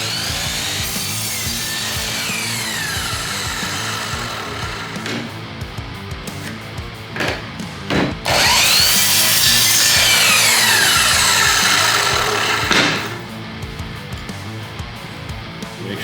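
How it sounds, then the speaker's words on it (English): A miter saw set to 45 degrees cuts pallet wood: rough rasping and short bursts at first, then a loud, sustained whining cut lasting several seconds before the blade spins down, with no speech. "I set my miter saw to 45 degrees and use a square to trace 45-degree lines before"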